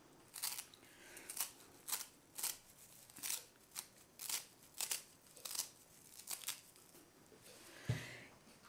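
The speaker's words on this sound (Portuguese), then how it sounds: "E migar um ramo de salsa." A sprig of parsley being chopped with a knife on a board, a steady series of about fifteen crisp, close cuts in an even rhythm with no talking.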